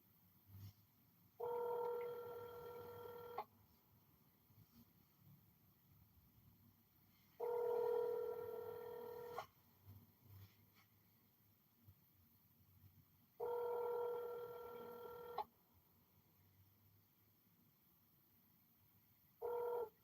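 A telephone ringback tone on an outgoing call before forwarding, with four evenly spaced two-second rings repeating about every six seconds, faint and alone.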